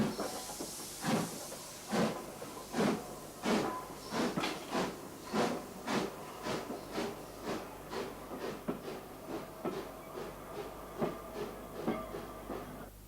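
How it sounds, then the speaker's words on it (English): A steam locomotive on an Isle of Wight branch line hisses and chuffs at a station as it prepares to depart, with a steady series of sharp exhaust bursts and steam hiss over a low background rumble, no talking. "Number 25 Godshill is preparing to depart, so we must board the train for the first part of our journey to Ventnor."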